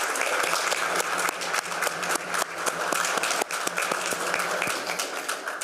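Delegates on the floor of the FIDE General Assembly break into loud, sustained applause, with dense clapping and a few sharper individual claps running steadily for several seconds.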